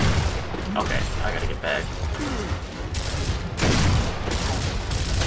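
Boltok revolver pistol fire in Gears of War Ultimate Edition during a campaign firefight, dense sharp gunshots and rattling bursts packed throughout amid loud battle noise, with someone talking over the combat.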